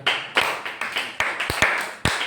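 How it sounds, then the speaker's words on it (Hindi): Classroom clapping for a student during a maths lesson, a small group giving a brief, uneven burst of claps with a few sharp, close hand strikes standing out. "तालियां हो जाए फिर"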